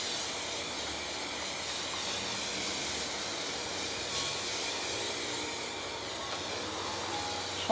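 Guide coat is misted from a spray can onto a damaged Audi A7 bumper, giving a steady, continuous close hiss that runs unbroken throughout.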